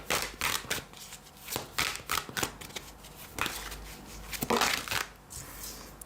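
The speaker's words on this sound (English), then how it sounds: "I'm gonna reshuffle that." Tarot cards are reshuffled by hand in a quiet room, with a run of close, soft riffling and slapping bursts in an uneven rhythm.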